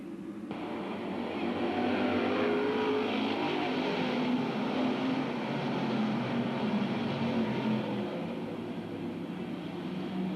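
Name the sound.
stock cars racing at Bedford Speedway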